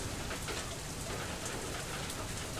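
Rain or hail storm in the video game FAR: Lone Sails, heard as a constant dense patter of precipitation with a low rumble underneath. It stays steady and moderately quiet throughout, with no speech.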